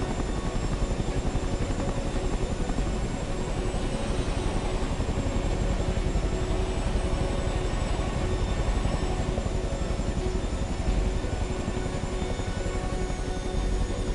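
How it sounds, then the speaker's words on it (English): A Chinook tandem-rotor helicopter hovers in Microsoft Flight Simulator 2024, its steady loud rotor chop and engine whine running continuously and close throughout, with no voices over it. "the dynamics of the Chinook on this aren't brilliant. So we'll get that into the hover here"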